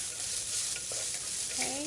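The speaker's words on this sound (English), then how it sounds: "Add in your onions, and this prevents the fenugreek from burning further" Onions frying with fenugreek in oil in a pan for a Sri Lankan brinjal pickle, a loud continuous hissing sizzle with a few soft scrapes and light clinks of stirring near the end.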